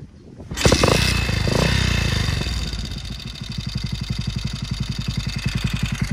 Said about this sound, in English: And of course, as always, my bike start first kick.